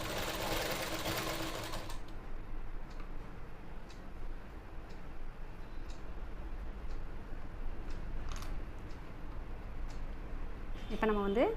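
Sewing machine stitching pleats into a gathering pant during a tailoring lesson, running steadily and fairly loud with a brief louder burst at the start and a short whir near the end.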